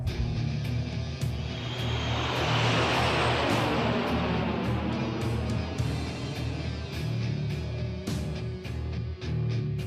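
An airship lifting off in Tales of Xillia gives a loud, steady engine roar that swells into a broad rushing whoosh over a deep low drone, with occasional sharp clanks, and no voices.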